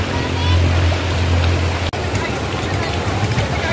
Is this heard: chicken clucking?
no